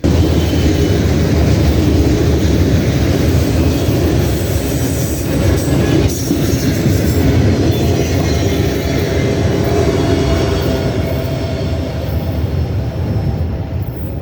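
Freight train passing close and loud, with a distributed power locomotive pulling two cars, a boxcar and an odd tank car, a steady roaring rumble of wheels and rails with faint squeal, no voices.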